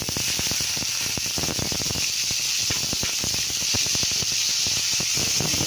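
Onions dropped into a pan of garlic fried dark brown for pork adobo give a loud, steady hissing sizzle with dense crackling pops throughout, close and continuous with no talking.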